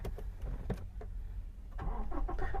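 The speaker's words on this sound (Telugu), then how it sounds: "బటన్ ప్రెస్ చేయగానే వెహికల్ స్టార్ట్ అయిపోతుందండి సింగిల్ సెల్ఫ్ అయితే వెహికల్ స్టార్ట్ అయిపోతుంది" A Toyota Innova Crysta 2.4 diesel from 2016 starting on its push-start button: a brief crank that catches into a steady, close engine rumble settling toward idle.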